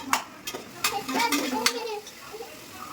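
Chicken and tomato sauté in oil for biryani, with a soft sizzle under scattered clinks and scrapes of a stirring spoon against the pan, while a voice talks faintly nearby.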